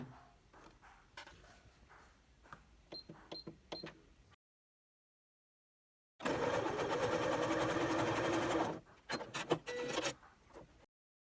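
Sewing machine stitching the seams of a bustier corset top: a steady whirring run of close, rapid stitching for a couple of seconds, followed by a few clicks and handling noises, with quieter fabric rustling before a silent gap.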